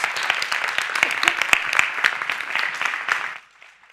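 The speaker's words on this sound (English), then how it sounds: "Let's give Abid one more round of applause." An audience at an arts-equity event gives a speaker another round of applause, a full burst of many clapping hands with a few sharp claps standing out, dying away after about three and a half seconds.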